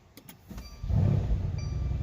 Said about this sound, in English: So we start the car up now